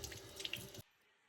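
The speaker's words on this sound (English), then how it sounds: "And now washing my berries under the warm water." Warm tap water runs over blueberries and blackberries being washed at a sink, a steady close splashing rush that cuts off abruptly partway through, leaving near silence.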